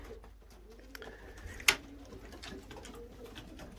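Pigeons in a loft, with soft low cooing murmurs under steady ambient noise, a brief sharp clatter midway, and no talking.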